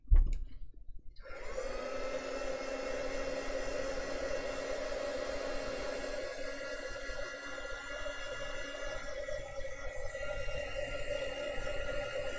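A hair dryer blows steadily over a gongbi painting, starting with a brief click and then holding a loud, even whirring hum with a high motor whine for the rest of the stretch, with no talking.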